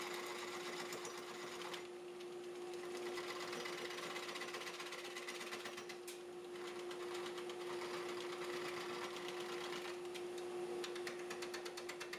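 A Nova Comet II wood lathe with a 3/4 horsepower motor runs steadily while turning a wooden bowl, giving a continuous close hum with a fixed tone and a faint ticking texture throughout.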